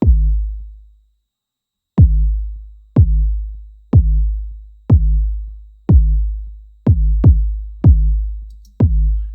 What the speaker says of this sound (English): if we go ahead and just play just the kicks by itself